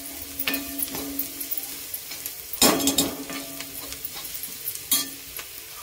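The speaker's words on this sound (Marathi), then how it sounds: "हे पण भाजी परतून घेते, हळद वगैरे सगळं." A shrimp, potato and vegetable mixture with turmeric sautés in a pan, with soft sizzling under repeated scraping stirs and a few sharper spatula knocks.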